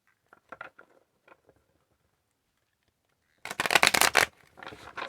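Tarot cards are shuffled close by, with a few light riffles and taps at first, then a loud dense burst of riffling, and a shorter flutter at the end.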